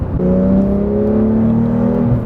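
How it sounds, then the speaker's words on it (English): A Porsche 911R engine revs up in one rising, sustained howl heard from inside the car, loud and close with no talk over it. "The engine note is so good."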